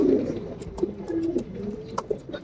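Pigeons coo softly close by, a few low rolling calls rising and falling over a quiet background.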